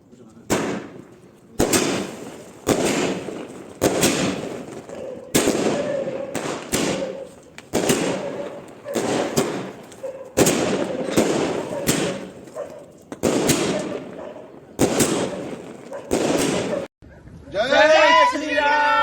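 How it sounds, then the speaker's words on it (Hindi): A 120-shot sky shot firework cake on a rooftop fires a long series of sharp cracking bursts, each with a thudding launch and a booming echo. The repeating volleys are loud, and an excited voice chimes in near the end. "उसके बाद हमने जलाई ये 120 शॉट्स की स्काई शॉट।"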